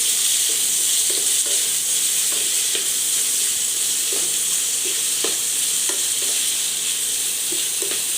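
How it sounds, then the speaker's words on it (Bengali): Chicken frying in a pan for kosha chicken: a steady, close sizzle runs throughout, broken by scattered scraping clicks from stirring, with no talk. "এবার এটাকে আমি একদম সুন্দর করে ফ্রাই করব।"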